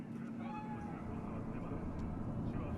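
A cat in Cyberpunk 2077 gives a short meow over a low, steady background hum, with a voice speaking alongside it.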